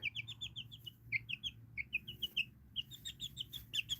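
Chickens in a backyard coop, with a newly added hen among them, give a steady run of short, high chirping and clucking calls in quick succession, close and fairly quiet, over a low background hum.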